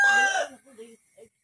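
A rooster's crow rings out nearby inside a poultry house, followed by a couple of softer clucks and short fowl calls that fade into quiet.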